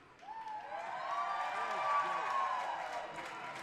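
A high school hockey crowd at the rink, Catholic Central playing at Byron Center, cheers and claps after a penalty call. The roar swells and holds, with voices shouting and whooping through it.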